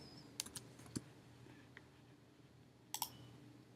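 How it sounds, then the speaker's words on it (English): Keys are tapped on a computer keyboard in a quiet clinical setting, a few faint close clicks in short clusters with gaps between them. "I'll type Cipro,"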